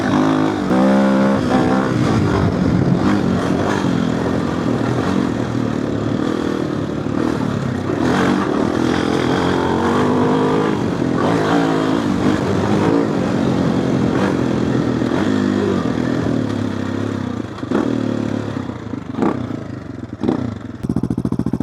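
AJP PR7 motorcycle ridden continuously, its single engine revving and climbing through the gears, loud and close with wind rush and clatter, no talk.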